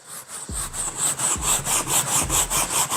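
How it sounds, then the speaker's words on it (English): Brisk, rhythmic scrubbing of a brush working carpet cleaner into carpet in several directions, each close, loud stroke rasping back and forth alone. "we're simply gonna go in and agitate that carpet cleaner into the carpet"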